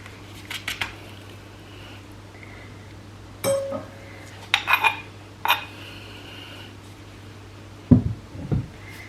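Flour, baking powder and freshly ground seeds are stirred together in a bowl with a utensil, giving a few scattered clinks and scrapes against the bowl separated by quiet pauses, over a low steady hum.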